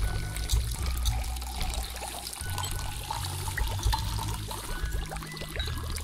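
Water pouring steadily in the video game Size Matters, a close, even trickling stream that runs for several seconds with no talk over it.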